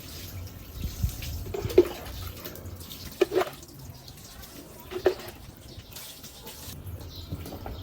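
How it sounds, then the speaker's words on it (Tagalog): A pet is rinsed with water before shampooing, soft splashes and drips of water over a quiet background, with a few brief sharper sounds of water hitting fur and a basin. "babanlawan muna natin siya ng tubig na cream"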